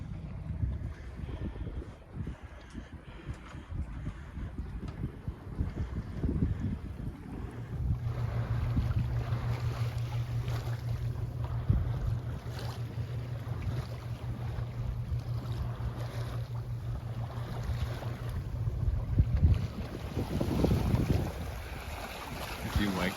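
Wind rushes steadily over the microphone aboard a Catalina 30 sailboat on Lake Pend Oreille, a broad continuous roar with water sounds and a low hum beneath, and faint talk now and then.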